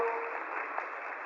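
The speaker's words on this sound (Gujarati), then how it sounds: "વાહ, આપની તાળીઓ" Applause from an audience at a devotional Gujarati gathering, a faint, band-limited wash of many hands clapping steadily throughout, with no talk over it.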